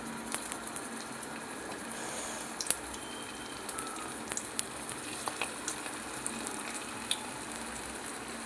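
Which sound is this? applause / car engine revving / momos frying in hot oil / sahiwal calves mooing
momos frying in hot oil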